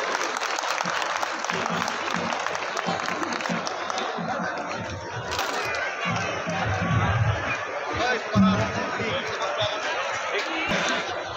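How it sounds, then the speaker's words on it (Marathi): A crowd bursts into sustained applause at a cultural programme with group dance performances, steady and dense clapping filling the room, with a murmur of voices mixed underneath. "त्यांच्यासाठी परत टाळ्या आणि साहेबांसाठी सुद्धा टाळ्या।"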